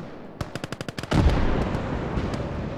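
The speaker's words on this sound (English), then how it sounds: "it looks like the counter battery fire was straight on, baby" Counter-battery artillery fire in the WWII game Gates of Hell: a quick run of eight sharp, evenly spaced shots, then a heavy blast that rolls into a long, loud rumble.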